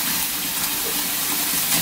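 Water runs steadily from a tap as pineapple is soaked in a sink, a continuous close splashing gush with no pauses.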